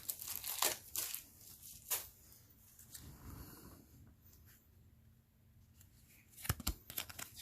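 Plastic wrapping is crinkled and torn off a deck of board game cards during an unboxing, with a few sharp rustling bursts separated by quieter handling, close and fairly soft, with no speech.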